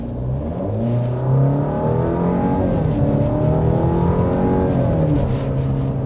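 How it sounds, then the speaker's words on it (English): A 2024 Alfa Romeo Giulia Competizione accelerates hard, its engine note rising steadily through the revs and dipping briefly at a gear change, heard loud and continuous from inside the car with no talking. "we're going to get a hard acceleration and see what's under the hood of this vehicle"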